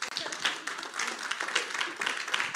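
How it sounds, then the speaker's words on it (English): A church congregation applauds at a service, brisk scattered clapping from many hands filling the room at moderate volume, with faint voices underneath. "I thought you would clap"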